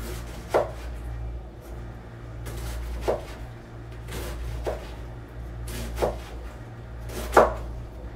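Knife chopping vegetables for sauerkraut on a cutting board, five sharp, separate thunks spaced a second or two apart over a low steady hum, close and fairly loud, with no talking.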